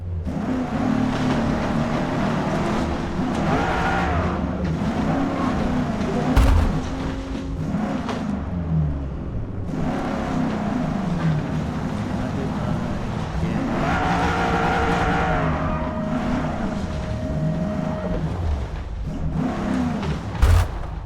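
Race cars in the video game Forza Motorsport roar through a practice lap, engines rising and falling in repeated surges with gear shifts and tire squeal, one sharp crash-like thump, steady and loud without speech.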